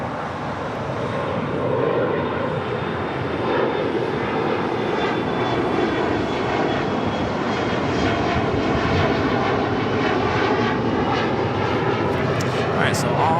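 A Boeing 787-8 Dreamliner jet airliner arriving from Tokyo Haneda at LAX airport, its steady engine roar loud and continuous throughout, with an airband-style voice talking over it.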